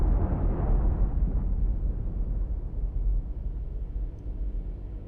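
A torpedo explosion in the submarine game Cold Waters booms loud and deep at once, then a heavy low rumble slowly fades over several seconds.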